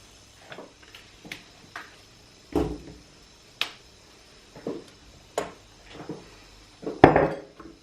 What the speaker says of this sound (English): just snapping off the ends